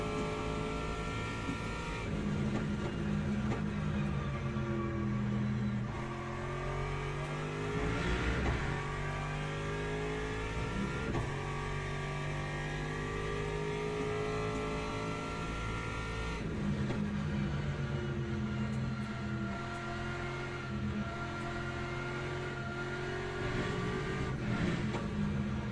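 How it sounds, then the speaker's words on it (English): Video game car engines rev and drone continuously, the pitch rising and falling through repeated gear changes, with occasional whooshes as cars pass by. The engines stay steady and moderately loud, and no one speaks. "Oh dear, I heard cars in the wall."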